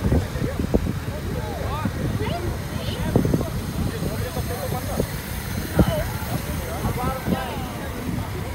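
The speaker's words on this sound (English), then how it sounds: "It's windy. Disregard the wind." Low, blustery rumble of wind buffeting a microphone, continuous throughout, with voices talking underneath it.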